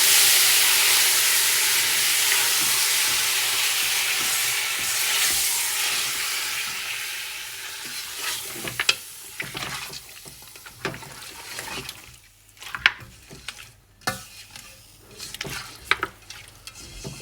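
Beef chunks sizzle and hiss as they go into a pan of browned onions for Afghani kabuli pulao, a steady frying wash that breaks into sharp scraping clicks of stirring toward the end.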